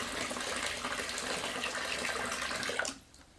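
Bottled water pours in a steady, splashing stream into a small home aquarium being set up for climbing perch, then stops abruptly near the end.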